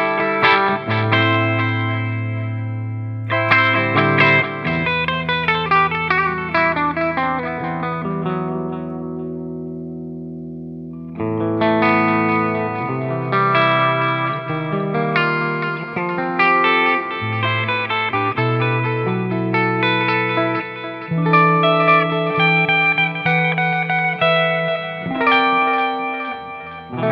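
Clean electric guitar played through a Tech 21 RK5 Fly Rig multi-effects pedal with tap-tempo delay, arpeggiated chords and melodic lines trailing distinct repeating echoes, steady and alone with no talk.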